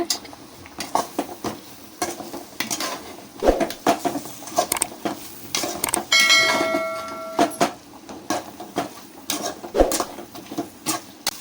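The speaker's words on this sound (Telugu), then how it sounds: "మొత్తం కలిపిన తర్వాత కరివేపాకులు కూడా దాంట్లో వేసుకొని కలుపుకోవాలి" Chicken fry with curry leaves stirred in a pan, a spatula scraping and clinking against metal in uneven strokes over a soft sizzle, close and fairly loud, no talking.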